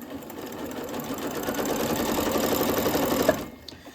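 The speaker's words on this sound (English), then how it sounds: "I'm just lining up the edge of the material with the edge of my presser foot, and I'm just going to go." Sewing machine running steadily as it stitches fabric along the presser foot edge for a snowman jar craft, a continuous close mechanical whir that stops near the end.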